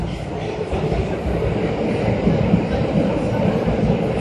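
Tokyo Metro subway train running on its rails gives a steady low rumble with faint rhythmic clatter, heard from inside the carriage as a continuous, fairly close drone.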